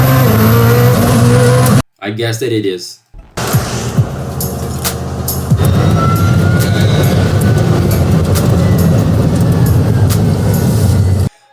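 A Rimac Nevera electric hypercar on the move gives a steady, loud broadband road rumble with a faint rising electric whine, after a short break near the start, while a voice talks over much of it.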